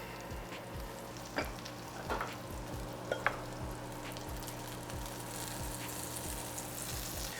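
Tofu frying in hot oil in a cast iron fried rice pan gives a steady close sizzle, with a regular series of low thumps and scraping stirs and a few sharper clacks, no voices.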